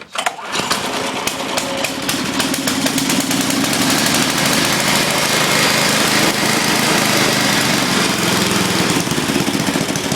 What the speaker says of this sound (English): It's an 8 horsepower Tecumseh.